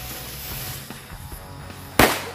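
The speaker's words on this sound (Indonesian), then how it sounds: "Oke, berhasil menyala mercon UFO-nya." A pink UFO firecracker is lit at night, a faint fizz, then a single sharp, loud bang near the end.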